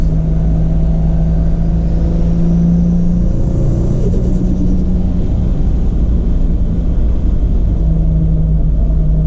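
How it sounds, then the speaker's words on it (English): A Toyota Supra under acceleration with its exhaust knocking against something, giving a loud, steady low drone and rumble that carries a droning vibration throughout, with no talking. "That exhaust is hitting something fierce."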